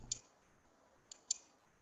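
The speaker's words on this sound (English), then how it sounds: "I hear this clicking noise." Three sharp, faint clicks sound against near silence, one alone and then a quick pair about a second later.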